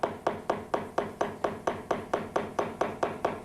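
Steady hammer blows struck one after another, about four per second, sharp and fairly close, with no voices, during work on furniture.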